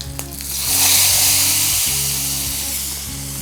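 Hot asafoetida tempering hits sweet potato and bitter gourd kara kulambu with a loud, steady sizzle. It swells within the first second and then holds. A low electrical hum runs underneath, and no one speaks.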